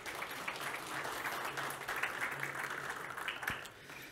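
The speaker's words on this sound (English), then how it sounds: "Welcome him on stage with a round of applause." A conference audience claps to welcome a speaker on stage at a cybersecurity event, with steady, dense applause throughout that fades a little at the end.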